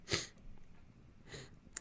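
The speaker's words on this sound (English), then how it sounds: "currently fighting a sneeze" A short, muffled sneeze burst near the start, followed by quieter breathy snorts and a sharp little sniff at the end.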